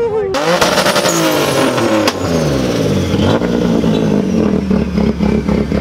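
A car's turbo shrieks as its engine revs hard at the H2Oi 2018 car meet, loud and close, with a rising high whine over the roaring, clattering engine.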